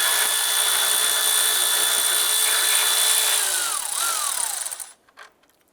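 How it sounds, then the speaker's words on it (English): A ratchet fitted with a 10 mm socket and an extension removes a nut on the air conditioner fan shroud of a 2001-2005 Honda Civic. A steady, loud, whining mechanical drone runs for about five seconds, then cuts off abruptly. "Using your 10mm socket and extension, let's go ahead and remove this nut right here"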